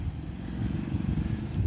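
A 1975 Eicher tractor engine idles with a steady low, throbbing diesel rumble that runs unbroken at moderate volume close by.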